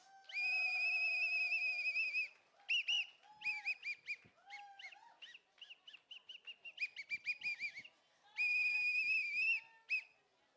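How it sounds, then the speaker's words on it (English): A referee's whistle is blown on stage at a live event, repeatedly and loudly: long sustained shrill blasts at the start and end, with a rapid series of short chirping toots in between. "Wow, you love that whistle"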